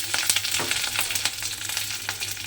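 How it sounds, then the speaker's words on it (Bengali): Curry leaves and whole cumin seeds frying in hot oil, a loud dense crackle of rapid pops and spits over a continuous sizzle, close and without speech. "এবারে কারি পাতা সাদা জিরেটা আমি একটু ভাজা ভাজা করে নেব"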